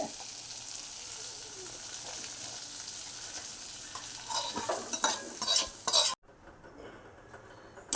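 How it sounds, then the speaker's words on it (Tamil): Sautéed onions tipped into thick tamarind water for a Tamil vatha kuzhambu, a soft sizzling and stirring wash with a few scraping clinks of a pan, ending in a sudden drop to quiet. "இப்போ வெங்காயத்தை வதக்கினதை இதிலே நான் கொட்டிடுறேன்"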